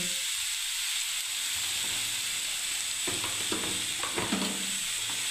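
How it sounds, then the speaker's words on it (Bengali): Tomato paste hits the oil of a frying chhana curry, setting off a steady, bright sizzle. Soft scraping and clinks from stirring break through the sizzle toward the end. "এবার আমি টমেটো পেস্টটাকেও দিয়ে দিচ্ছি বন্ধুরা।"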